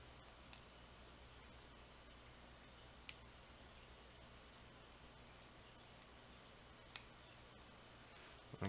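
Pins of a practice lock clicking as it is picked, a handful of tiny, sharp, widely spaced clicks over faint background hiss, very quiet and close up.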